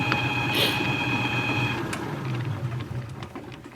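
A machine tool cuts into a metal primer gun part, giving a steady mechanical whir with a high sustained tone that drops away partway through, then lower running noise with scattered ticks.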